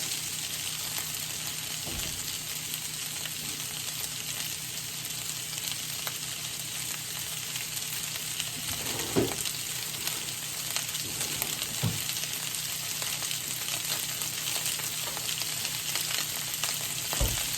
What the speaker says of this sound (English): My butter's starting to melt just a little bit.